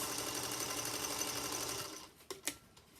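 A sewing machine runs a quarter-inch seam along fabric strips in a fast, continuous whirring hum for about two seconds, then stops, followed by a few soft clicks and thumps close by.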